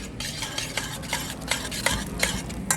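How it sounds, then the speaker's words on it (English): Cacio e pepe pasta with a touch of olive oil is mixed in a pan, giving close, rhythmic scraping and sloshing stirring strokes with no talk. "And then you're gonna mix that all together."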